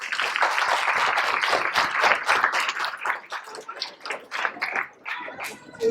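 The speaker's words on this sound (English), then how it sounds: "give a loud applause to each and every one of us together" Guests at an annual fundraising dinner for a Muslim food bank applaud, a close, dense burst of clapping that is loud at first and thins into scattered, uneven claps as it tapers off.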